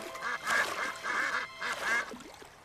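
Ducks at a duck pond quacking repeatedly in a steady run of four or five close, nasal quacks, clear and fairly loud, with no talking.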